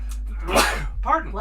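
A person sneezes once, loud and close, with a short breathy burst after it over a steady low hum.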